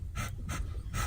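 A duck sitting on a clutch of eggs behind a shop cabinet, giving three rhythmic, breathy hissing pants over a low background rumble, close and faint.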